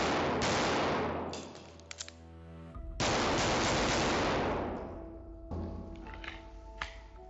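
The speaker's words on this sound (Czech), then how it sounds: "Jsou to 2 rány do hlavy, vynucené přebití a 4 rychlí do vitální zóny." Pistol shots on a training range fired in a drill sequence of two shots to the head, a forced reload and four rapid shots to the body. Loud, sharp reports come in separate bursts with a pause between them.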